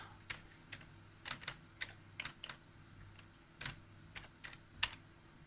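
Keys clicking on a computer keyboard as a password is typed at a Linux terminal, a dozen or so soft, irregular taps spread over several seconds, fairly quiet and close with no talking.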